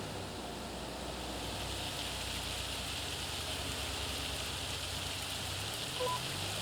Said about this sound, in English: we are now having a hailstorm on our farm